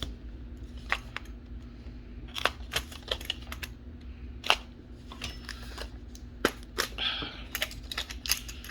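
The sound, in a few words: cutting tape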